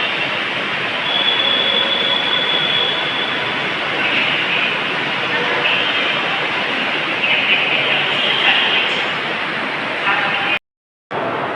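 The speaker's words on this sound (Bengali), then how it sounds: "চলে এসেছি সল্টলেক স্টেডিয়াম মেট্রো। এবার আবার এখান থেকে মেট্রো ধরবো" Kolkata metro train at Salt Lake Stadium station, a loud, steady rumble and rush of the train running through nearly the whole stretch before cutting off abruptly near the end.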